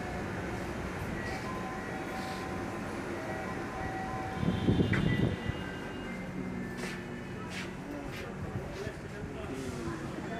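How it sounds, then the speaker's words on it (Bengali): Inside a Dhaka metro rail train running from Pallabi to Uttara, a steady low rumble and hum fills the car, with a louder thump partway through and murmuring voices beneath. "কিছুক্ষণের মধ্যেই ট্রেনটি দরজা ওপেন হলে আমরা মূল ট্রেনে প্রবেশ করি।"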